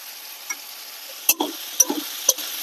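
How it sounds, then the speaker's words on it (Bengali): Spices with turmeric, cumin paste, ginger paste and chili powder sauté in a pan for a potato and paneer curry, a low steady sizzle with a few sharp utensil scrapes and clicks against the pan. "ভালো করে কষিয়ে নেব।"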